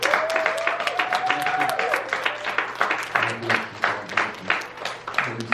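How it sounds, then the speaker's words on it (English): A church congregation claps in a dense, steady burst, with a voice and a sustained tone carrying over the clapping. "Give them a round of applause."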